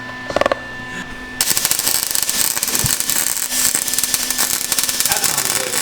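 Arc welding on a push car frame: a steady, loud crackling hiss that starts abruptly and runs on with dense sputtering pops, after a few short tack bursts at the start, with no talk.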